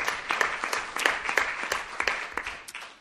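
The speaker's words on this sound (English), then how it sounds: "So a huge round of applause for Frank Legge." Audience applause for a speaker at a 9/11 Truth panel discussion, a moderate burst of clapping from a modest crowd that holds steady for about three seconds.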